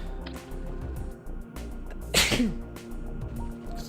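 A single sharp sneeze bursts out near the microphone amid low background murmur and rustling, during an AM2R game session.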